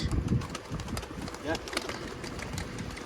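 Pigeons coo softly and repeatedly against a busy background, with scattered clatter and chatter; the cooing sits low and close.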